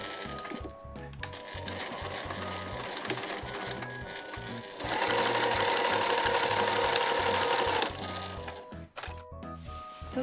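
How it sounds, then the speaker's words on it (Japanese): A sewing machine stitches a seam in Marimekko fabric for a gathered skirt, rapid mechanical chattering in short runs, then a longer faster burst of stitching before slowing and stopping with a few clicks. "しっかり縫いましょう。"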